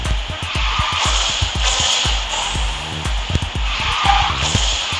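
Car drifting in the Garena Speed Drifters racing game, with sustained tyre squeal over a loud engine and rapid rhythmic ticking pulses, steady and close throughout with no talk.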